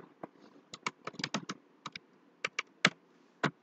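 Keys clatter on a computer keyboard in a quick, irregular burst of close, crisp taps with short pauses between clusters, fairly quiet and with no talk.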